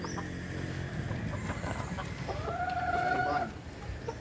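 A two-year-old Peruvian Giro gamefowl rooster with a straight comb gives a short crow, clear and fairly close, amid low farmyard clucking and background noise.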